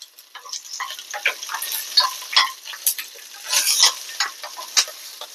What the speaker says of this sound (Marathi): मिरच्या भाजून घ्यायच्या, लसूण आणि शेंगदाणे.